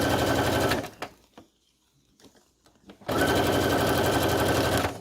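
A sewing machine stitches Halloween fabric pockets in loud, steady runs of fast, even needle rattle, stopping for a couple of seconds of quiet handling sounds before starting again at full speed.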